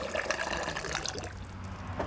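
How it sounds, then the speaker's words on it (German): A pouring can spills a steady stream of water over freshly laid natural stone paving, a close, continuous splashing trickle with no voices. "An heißen Tagen gießt er die zweite Runde bereits nach 30 Minuten, auch wieder mit dem sogenannten Ausgießer."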